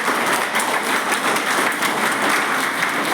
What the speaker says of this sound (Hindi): आपके टीचर लोगों के लिए तालियां बजाइए।